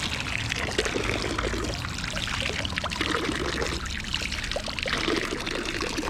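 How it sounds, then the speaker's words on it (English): Water pouring steadily from a public drinking-water fountain in Morzine, a continuous close splashing trickle lasting several seconds with no talk over it. "hiannon was saying they're all over Morzine, loads of these little fountains, all drinking water."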